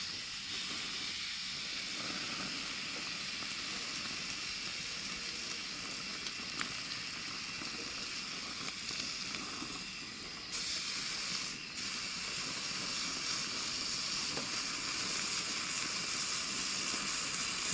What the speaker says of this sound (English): the first thing I'm going to do is I'm going to sear the outside, and I'm just going to hold it there.